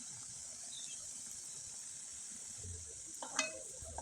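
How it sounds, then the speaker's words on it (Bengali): Rice flour pitha frying in oil in a small wok over low heat, giving a steady, soft, continuous sizzle with a brief light clink near the end. "এখন আমি এই পিঠাগুলো আপনাদের তেলে ভেজে দেখিয়ে দিচ্ছি"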